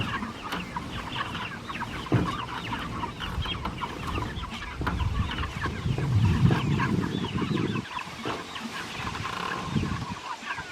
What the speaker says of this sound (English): This is our second batch of meat chickens.